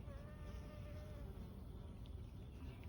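Honeybees and other small bees buzz among aster flowers, a soft, continuous hum of wings at close range with no talking over it.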